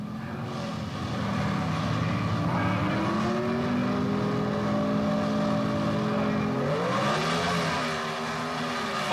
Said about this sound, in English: that powerful Ford Mustang pulls out the win